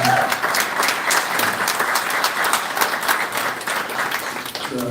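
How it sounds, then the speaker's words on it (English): Audience at a township board meeting applauding township employees, a dense, steady round of clapping from a room-sized crowd lasting several seconds. "Please give a round of applause to these Thornton Township employees."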